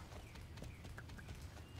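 Steady clip-clop of horse hooves at a trotting rhythm in the video game Star Stable, under a constant wash of background noise, with no voices.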